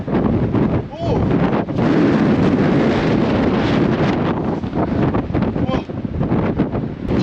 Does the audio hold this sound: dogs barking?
no